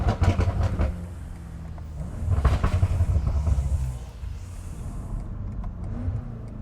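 A DME-tuned BMW M5 revs hard, with gunshot-like exhaust pops and crackles. Loud surges of engine roar come in waves, broken by sharp bangs, then ease to a lower drone.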